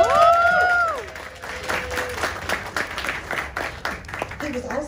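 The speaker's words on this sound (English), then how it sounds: "A round of applause." Audience applause and clapping at a Los Angeles Metro community event with a Dodgers appearance, rising after a voice over a loudspeaker and continuing as a steady crowd patter, with talk over it near the end.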